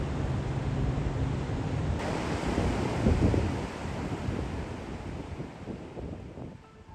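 Ocean waves washing onto a sandy beach, a steady broadband roar of surf with wind buffeting the microphone, fairly loud and continuous throughout with no voices.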